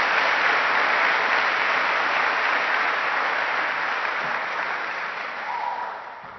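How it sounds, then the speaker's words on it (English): A large audience at a college senior student-athlete award ceremony gives sustained, dense applause that holds steady and then gradually fades toward the end. "one more final round of applause for the terrific accomplishments of these student athletes"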